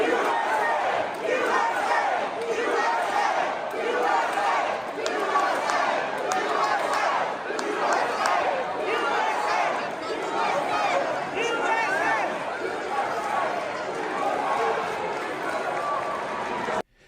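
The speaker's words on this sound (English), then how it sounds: "they're drowning out the pro-Palestine from the river to the sea crowd by just marching and calling out USA" Crowd marching and chanting "USA" at a theater graduation ceremony, a loud, continuous roar of many voices with rhythmic shouting and footsteps, sustained throughout and cutting off abruptly at the end.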